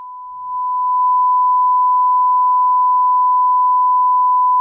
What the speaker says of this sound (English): You can hear a 1 kHz tone playing now, and that's being routed through the unit and recorded